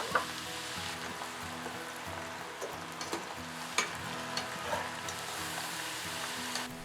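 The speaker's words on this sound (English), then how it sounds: "On medium heat, put the shallots." Shallots fry in oil over medium heat, giving a steady close hiss and crackle with occasional sharper pops and no talking.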